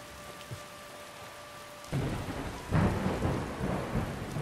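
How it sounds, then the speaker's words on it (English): Thunder and rain in the Skyrim video game: after a quiet stretch, a heavy rain wash swells in, and rolling thunderclaps rumble loudly beneath a steady downpour. "Dramatic thunderclaps."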